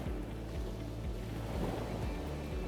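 Waves on Smith's Beach in Leeuwin Naturaliste National Park, a faint, steady wash of surf with soft rolling swells and a gentle hiss of wind, no voices.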